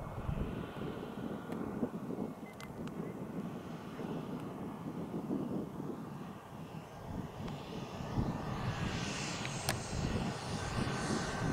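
A T-45 model turbine jet comes in to land with full flaps, its faint, distant turbine whine mixed with gusting wind noise and swelling slightly toward the end.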